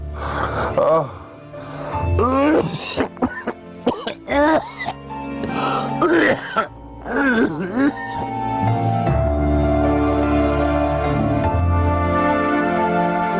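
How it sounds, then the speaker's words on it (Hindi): Several harsh coughs and throat-clearing sounds in quick bursts, close by, followed by a steady musical background. "कितने दिन हो गए खांसते हुए"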